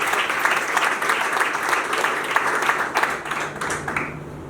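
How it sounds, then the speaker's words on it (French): Applause from guests at a civil wedding ceremony, a steady crowd of clapping hands lasting throughout and tapering slightly near the end, with faint voices mixed in. "ça mérite des applaudissements."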